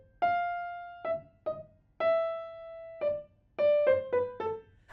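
A piano right hand plays a legato melody, clear single notes and short runs ringing smoothly into one another at moderate volume, each note sustaining and fading before the next, with no voices.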